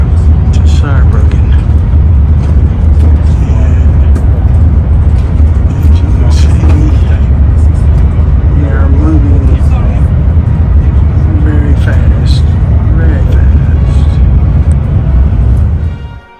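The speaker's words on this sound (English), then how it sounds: "This is normal speed on the bullet train from Paris to Saarbrücken." Interior of a high-speed bullet train running from Paris to Saarbrücken, a loud steady low rumble and rushing roar at normal cruising speed that persists unbroken until an abrupt cut, with a voice talking over it.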